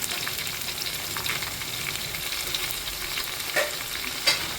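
Onion with ginger and garlic paste sizzles steadily in a pan for a duck curry, a continuous frying hiss broken by two brief scraping stirs near the end, with no voices.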